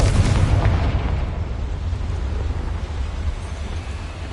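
A Confringo fire spell explodes in Hogwarts Legacy, a single loud booming blast that fades into a low rumbling tail.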